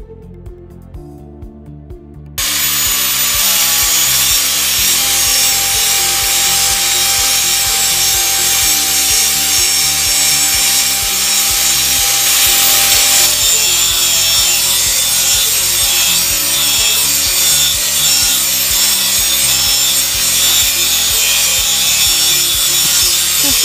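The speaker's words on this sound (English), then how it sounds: "so now I'm gonna make it all nice and sharp" Sharpening a sword blade made from scrap building material: after a brief quiet start, a loud, continuous rasping scrape runs steadily to the end with faint repeating stroke rhythm.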